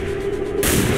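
Gunfire from a soldier's weapon in the X-COM tactical video game, a loud burst striking at once, with a sustained noisy wash behind it and no talk.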